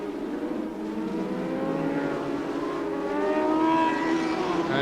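Brian Morrison's number 14 Honda racing motorcycle goes through on its last lap in a 1988 600cc race. A moderately distant engine whine climbs steadily in pitch, growing slightly louder as the machine passes.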